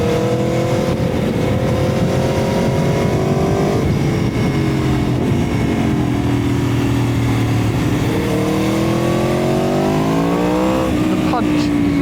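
An Aprilia Tuono V4 1100 Factory motorcycle downshifting on the road with a quickshifter. The loud, close engine revs rise and fall in pitch through repeated gear changes, with crackles at the shifts and wind roar underneath.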